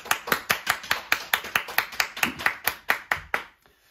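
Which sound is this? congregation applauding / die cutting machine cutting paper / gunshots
congregation applauding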